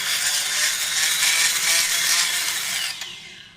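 A power drill bores a 3.5 mm hole into an ESP800JY electric spray gun, making a loud, continuous, high-pitched whirring grind for about three seconds before it cuts off abruptly.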